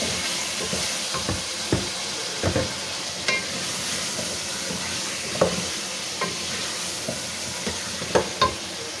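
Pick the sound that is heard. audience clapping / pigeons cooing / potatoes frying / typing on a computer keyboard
potatoes frying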